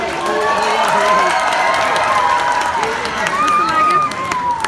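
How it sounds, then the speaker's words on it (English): A loud audience cheers and applauds, with shrill shouts and whoops layered over steady clapping and crowd noise, sustained and close throughout. "Can we have another round of applause?"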